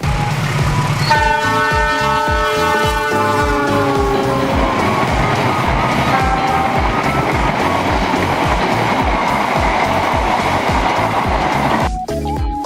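Full-length train passing on a rural stretch near Gayung Sari, Surabaya, East Java, with horn blasts sounding near the start over steady, loud rolling wheel clatter that continues throughout.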